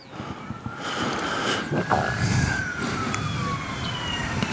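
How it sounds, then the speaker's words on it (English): Wailing sirens rise and fall in the distance over a steady background murmur of crowd and traffic at a high school baseball game. "I hear sirens."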